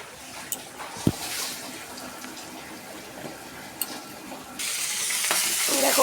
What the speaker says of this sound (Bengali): দেখো কালো জিরা দিয়ে আমি রসুনটা দিয়েছি, ওইখানেই আবার মাছটাও ঢেলে দিয়েছি।